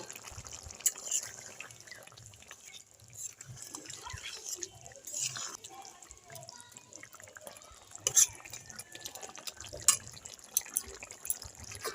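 Puti fish going into a pan of boiled potatoes for a spicy puti fish curry: quiet wet splashes, drips and soft stirring, close by, with no talk.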